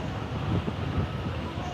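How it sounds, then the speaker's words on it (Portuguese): Strong wind blowing at a station buffets the microphone in a loud, continuous rumbling roar with gusty swells, and muffled voices are faintly mixed in. "Tá uma ventania."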